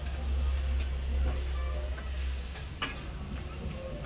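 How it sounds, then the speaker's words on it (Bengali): Fish added to a spice paste in a pan, frying with a steady close sizzle as it is stirred, with occasional scrapes and a soft clink over a low background rumble. "এবার আমি মাছটা ছেড়ে দিলাম, মাছটা ওর সঙ্গে মিশিয়ে দিলাম।"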